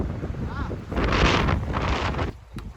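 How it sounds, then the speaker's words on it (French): Steady wind buffets the microphone with a broad, rumbling roar that swells and fades, with faint water and voices underneath, out on a rowing boat. "bah y a du vent, c'est dur d'avancer."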